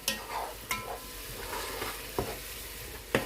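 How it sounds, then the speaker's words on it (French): Tomato and condiments in a pot for Cameroonian fried beans, with a soft steady sizzle and bubbling and a few sharp knocks of a spoon against the pan. It is quiet and close. "Et on va laisser ça mijoter vraiment à feu doux"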